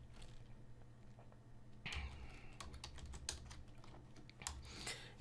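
Fingers type on a computer keyboard, a quiet, uneven run of light clicking keystrokes with a few sharper taps, close by and without speech.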